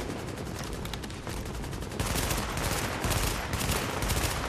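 Loud, dense bursts of gunfire in the video game The Division that keep going without a break, harsh and close, with faint rapid single shots layered under it.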